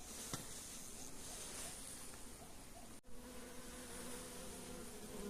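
A dense, steady buzzing of many honeybees in a box close by, continuous and even throughout with no talking.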